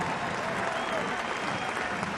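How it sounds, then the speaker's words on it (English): Spectators applaud during an Adelaide United Women versus WS Wanderers W-League football match. The clapping is steady and moderately distant, and a commentator talks over it throughout. "the crowd claps their appreciation"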